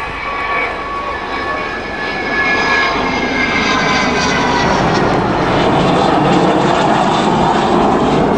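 An Avro Vulcan bomber flies at the Waddington airshow, its loud, continuous jet roar swelling and thickening as it nears.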